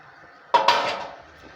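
Cabbage and half-cooked potato tossed and sautéed in a pan with masala, heard as one short close clatter of a utensil against the pan followed by a brief scraping rustle, with no talking.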